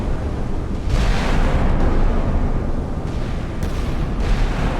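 Naval gunfire and explosions in the naval warfare game Sea Power, a steady loud rumbling barrage of booms and blasts running throughout with a few sharper bursts standing out.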